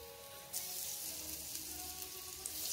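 Sardines coated in rava fry in oil on a tawa, giving a quiet, continuous hiss that stays even and close throughout, with no one speaking.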